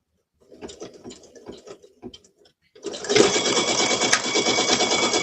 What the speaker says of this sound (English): while that satin stitch is satin stitching, I'm gonna let y'all watch it for just a little itty bitty bit